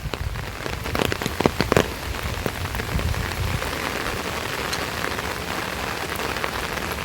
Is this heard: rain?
yes